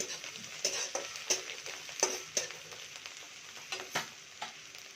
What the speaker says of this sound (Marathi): मिरची भाजून देऊ. कढीपत्ता पण टाकूया.